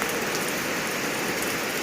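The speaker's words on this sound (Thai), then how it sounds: "ฝนสาดคันยามแรงนะเย็นคักพี่น้อง" Heavy rain pours down on a new house in the Thai countryside, a dense, steady hiss of drops drumming without pause, loud and close, with no voices.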